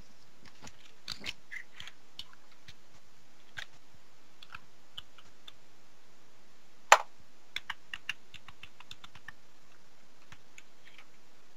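Someone types an email password on a computer keyboard: sparse, quiet individual key clicks scattered irregularly over several seconds, with one sharper louder tap midway and a few quick bursts after it.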